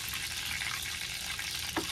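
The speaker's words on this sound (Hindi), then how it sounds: "बर्फ वाली मछली अंदर से पानी छोड़ता है तो ये तेल में आवाज़ करता है।" Fish chilled on ice frying in hot oil gives off a steady, dense sizzle that hisses on without pause, close and fairly loud, with one brief sharper crackle near the end.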